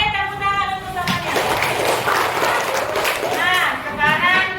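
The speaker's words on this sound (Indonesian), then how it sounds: "Oke, tepuk tangan untuk semuanya." Classroom group applause, dense clapping from many hands filling most of the stretch, with a voice speaking at the start and end.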